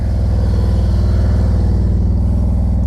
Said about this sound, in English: you can even hear on Rodney's bike right now, I can hear that his throttle